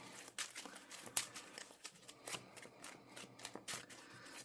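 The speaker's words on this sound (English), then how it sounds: "We will go ahead and shuffle up and then give you one more test hand." A deck of trading cards shuffled by hand in a quiet room, with bursts of quick riffling and soft card slaps repeating in an uneven rhythm.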